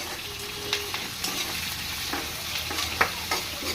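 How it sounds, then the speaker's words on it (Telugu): Ginger and curry leaves with garlic frying in a pan, a continuous soft sizzle with occasional utensil scrapes and small taps, fairly quiet and close, no talking. "ఇది ఇలా ఫ్రై అవుతుంది కదా"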